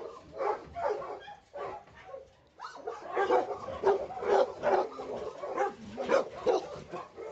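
Several dogs bark and yip at a large kennel housing breeds such as Labradors and corgis, with repeated overlapping barks close by throughout and a little talk mixed in.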